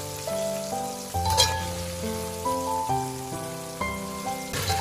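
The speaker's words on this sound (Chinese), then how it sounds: "将所有的豆腐都倒进油锅中，再用照例轻轻地翻动" Tofu frying in hot oil in a wok, a steady crackling sizzle under music, with a couple of brief louder bursts as pieces go in or are turned.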